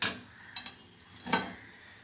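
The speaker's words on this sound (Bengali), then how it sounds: "এবার আমি কড়াইটা চাপিয়ে দেবো।" A metal kadai set onto a home gas stove gives a few faint, light metallic clinks and knocks in quick succession, in a quiet kitchen with no talking.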